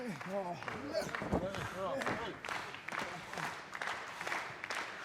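A wrestling arena crowd reacts after a big train crash in the ring, cheering and clapping beneath a commentator talking over the noise, with scattered sharp thuds.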